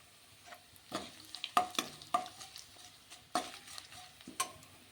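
Curry leaves and dried red chillies fry in a pan with soft sizzling, broken by a series of light stirring clicks and scrapes at an uneven pace, quiet and close.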